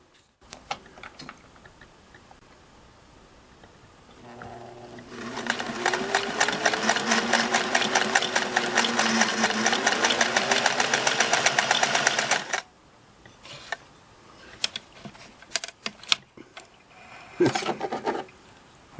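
A Singer Model 401A sewing machine runs two-needle, four-thread stitching at a long stitch length in one sustained, evenly ticking run of about seven seconds, framed by quieter clicks and fabric handling before and after.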